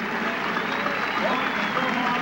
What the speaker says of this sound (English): the crowd boos, but appreciates